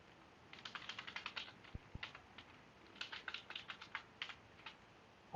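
Quick bursts of typing on a computer keyboard, clustered keystrokes clicking in two runs with a short pause between, close and fairly quiet, with two low thumps in the middle.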